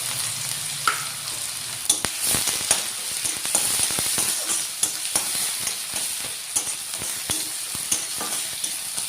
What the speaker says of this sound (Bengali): পেঁয়াজ অল্প বেরেস্তা করে নিব কিছু পরিমাণ তেল দিয়ে